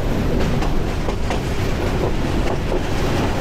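A Sagarika Commuter train pulls out of Kumira railway station with a loud, continuous rumble, steady wheel clatter and faint rhythmic clicks, heard from aboard with no voices.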